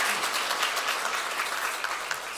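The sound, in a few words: church congregation applauding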